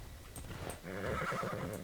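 The horse Abraxas whinnies in Assassin's Creed Odyssey, a rising neigh that follows soft hoof clip-clops, fairly quiet and with no voices over it.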